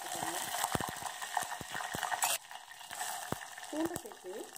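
Mustard and fenugreek seeds splutter in hot oil for a Chettinad vatthal kuzhambu, giving faint, irregular sharp pops over a low sizzle, with a voice talking briefly in the background.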